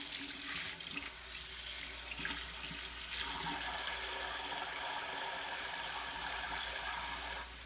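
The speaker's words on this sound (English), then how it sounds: "See how the sprayer works" Water from the pull-out sprayer of a new single-hole kitchen faucet hisses steadily into the sink, a continuous close broadband spray with small clatters early on and no talking.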